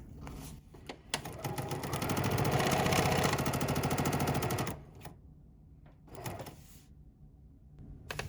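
A sewing machine stitching fabric for a quilt block runs in a fast, rapid-fire mechanical rattle for a few seconds, then stops, followed by short bursts of stitching and quiet handling sounds.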